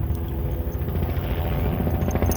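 Helicopter rotor drone, a steady low throbbing that holds evenly loud throughout, with no talk over it.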